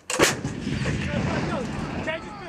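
An M777A2 howitzer fires a single loud, close artillery blast with a sharp crack and deep boom, followed by a rumbling tail and faint voices in the background.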